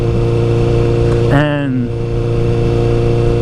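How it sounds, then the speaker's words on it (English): A 2014 Honda CBR1000RR motorcycle with its stock exhaust runs with a steady, even engine drone throughout, while someone speaks briefly over it. "the exhaust is quiet"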